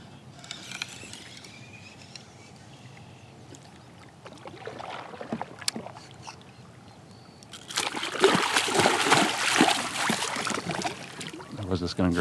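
A hooked pike thrashes at the surface, bursting into loud, continuous splashing in the latter part after quieter water sounds and faint handling noises.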